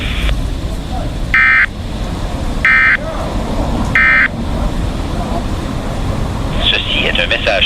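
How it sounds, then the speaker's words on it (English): Weather Radio Canada alarm activation test tone sounding three times as short, shrill, evenly spaced beeps, with a French-speaking announcer reading throughout. "Ce message est destiné à tester les fonctions d'activation d'alarme des récepteurs Radio Météo."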